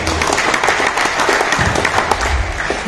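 Steady applause from a crowd at a regional organisational assembly in Tegal, Central Java, dense and continuous clapping filling the room for the whole stretch.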